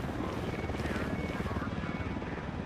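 A patrol helicopter passes overhead in the tactical shooter Ghost Recon, in Operation Kingslayer, a steady throbbing rotor drone, moderately loud and continuous throughout.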